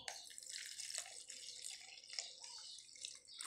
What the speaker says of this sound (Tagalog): Tapos lalagyan natin ng water.